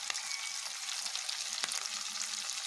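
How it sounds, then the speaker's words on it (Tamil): Pirandai and tomatoes sautéed in a pan: a soft, continuous hiss of frying at moderate distance, with a couple of faint spoon clicks and no voices. "இப்போ கட் பண்ணி வச்சுருக்க தக்காளி சேர்த்து வதக்கிக்கலாங்க"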